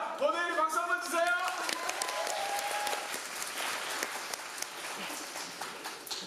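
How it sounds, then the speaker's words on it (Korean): Musical theatre audience applauding at an evening performance of Western Story, a steady wash of clapping filling the hall, with a sung or spoken voice briefly rising over it at the start. "버네일 박수 한번 주세요."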